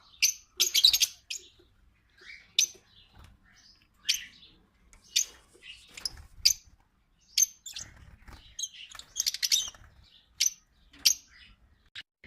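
A golden finch chirps with short, bright tweets and trills in irregular bursts over a quiet background, with small pauses between calls and some soft rustling or pattering underneath.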